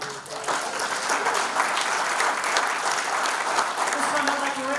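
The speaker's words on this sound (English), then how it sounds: "have a big round of applause for Mr" A banquet crowd applauds Frank O'Malley at a hall of fame dinner in St. Joseph, a steady, dense wash of clapping that holds evenly throughout without pause.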